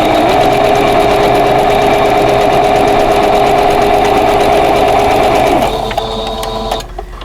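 A sewing machine sews a vintage quilt block in one loud, close, continuous whirring run of rapid stitches that slows and stops near the end, leaving faint handling sounds.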